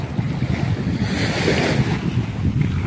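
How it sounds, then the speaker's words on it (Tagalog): Rough sea surf washes continuously onto a beach, a loud, steady roar of breaking waves with wind buffeting the microphone throughout and no voices. "Medyo maalon ngayon."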